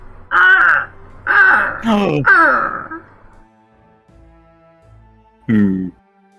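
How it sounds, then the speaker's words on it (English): Loud, close crow caws, a run of four harsh calls in quick succession followed after a pause by one more, alone without talk. "It's kind of like a crow."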